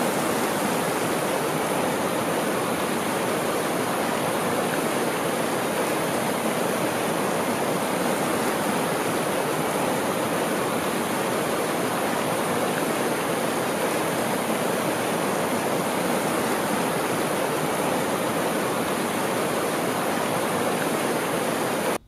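Steady, dense rush of running water, continuous and unbroken like a stream or small waterfall, with no voices or other sounds.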